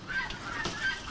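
Guinea fowl calling at an Adana farm, a short pair of harsh, honking squawks close by with outdoor background noise and no talk.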